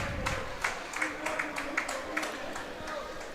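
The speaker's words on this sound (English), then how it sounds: "Couple claps from what assumes to be some Orangeville fans." A handful of scattered claps from a few Orangeville fans at a junior lacrosse game, sparse and fairly distant, ringing through an arena under steady crowd murmur and a commentator's voice.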